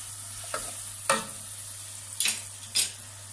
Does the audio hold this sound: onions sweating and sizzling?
yes